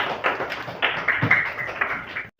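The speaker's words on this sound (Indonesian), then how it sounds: "Tepuk tangan." A class of primary school children at SD Negeri 084-087 Sibolga claps together in a dense, continuous patter of hand claps with a few louder accents, close and busy, ending abruptly.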